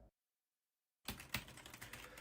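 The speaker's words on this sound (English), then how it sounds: "Angry typing intensifies." Rapid, forceful computer keyboard typing starts abruptly after a second of silence and continues as a dense run of close, loud key clacks with one especially hard strike.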